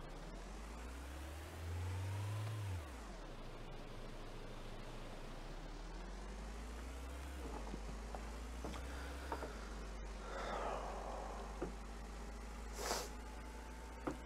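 A car engine in the video game Ship Graveyard Simulator drives along at moderate volume, revving briefly near the start and then holding a steady drone under a hissy background.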